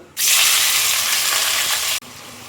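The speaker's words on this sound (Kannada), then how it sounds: "ಈರುಳ್ಳಿ ಸ್ವಲ್ಪ ಮೀಡಿಯಮ್ ಬ್ರೌನ್ ಕಲರ್ಗೆ ಬರೋ ತನಕ ಫ್ರೈ ಮಾಡ್ಕೊಳ್ಬೇಕಾಗ್ತದೆ" Small-cut onions drop into hot oil with fennel seeds, setting off a sudden loud, close burst of sizzling that holds strongly for about two seconds before cutting away abruptly.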